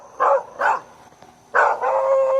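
A dog barking near an old Heil heat pump package unit outdoors: three loud, close barks, the last one stretching into a longer whining howl, with no talking.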